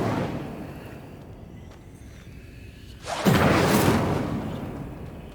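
A sudden whooshing burst of a fire spell from the Hogwarts Legacy video game erupts after a few quiet seconds, a loud fiery blast that then fades slowly.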